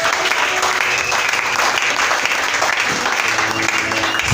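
A church congregation applauding to acclaim the Lord, dense continuous clapping from a crowd filling the room, with voices mixed in underneath.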